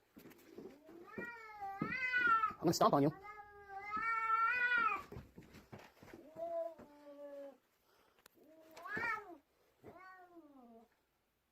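A house cat meowing insistently, a run of long, drawn-out, wailing meows in close succession with short pauses, close by, with a voice briefly speaking between them.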